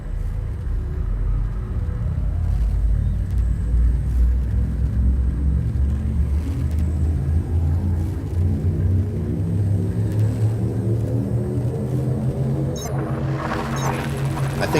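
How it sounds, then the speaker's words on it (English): Frame shift drive charging on a ship in the space game Elite Dangerous, a deep rumbling hum that builds and rises steadily in pitch, growing denser until a sharp burst near the end. "Frameshift drive charging."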